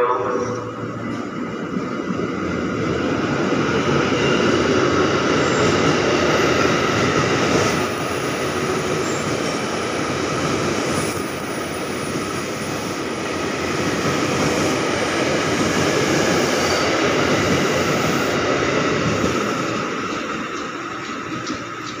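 A KRL commuter electric train runs through Manggarai station in Jakarta at night, a loud sustained rumble and rolling rail noise that swells and holds for the whole stretch, with faint station sounds beneath.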